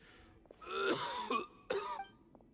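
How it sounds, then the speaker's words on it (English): A male character in the video game Genshin Impact coughs and clears his throat in a few rough, raspy bursts, close and fairly loud, with short pauses between them. "Why is he coughing so much?"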